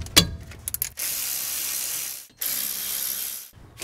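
A ratchet loosens the 14 mm brake caliper bolts on a Toyota RAV4, giving a few quick clicks, then two long, steady zipping runs of pawl clicking, close and clear.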